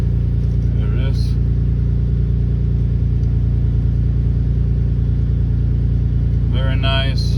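Mitsubishi 3000GT VR4 idling through a Tanabe exhaust, a deep, steady, loud rumble filling the whole stretch, with brief light noises near the start and end.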